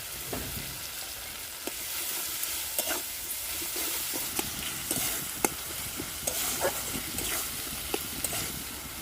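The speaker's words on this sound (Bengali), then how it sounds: "আদা রসুন জিরে শুকনো লঙ্কা একটা বেটে রেখেছিলাম, এটাও দিয়ে দিলাম।" A ground paste of ginger, garlic, cumin and dried red chilli frying in a pan for a papaya and egg curry, with a steady hissing sizzle and scattered spoon taps and scrapes over several seconds, close and alone.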